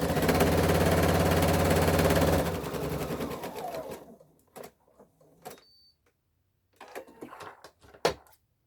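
A sewing machine stitches scrunchie fabric in a loud, rapid run lasting a few seconds, then slows and stops, leaving scattered clicks and light handling sounds.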